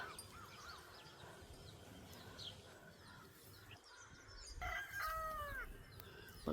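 Early-morning birds sing in a Tamil Nadu village, with scattered chirps and whistles at a moderate distance and a rooster crowing loudly near the end over faint background noise.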